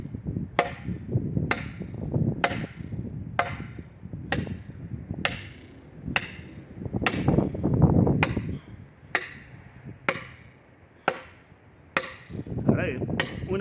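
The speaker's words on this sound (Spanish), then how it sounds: "estoy hachando directamente, no estoy macheteando" Yarara Comando machete chopping hard into wood, a steady series of about fourteen sharp, close thwacks spaced roughly a second apart, with outdoor rustle and low background sound between strikes.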